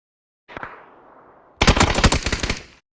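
Gunfire in the video game PUBG: a single sharp shot with a fading tail, then a rapid loud burst of automatic fire lasting about a second.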